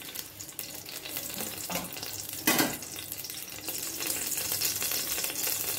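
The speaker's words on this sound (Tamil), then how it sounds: "ஆயில் போட்டுட்டு ஹீட்டான அப்புறம்" Steady broadband sizzling of hot oil heating in a pan for tempering spices for country chicken curry, with occasional clatter of a utensil, continuous and fairly close, no talking.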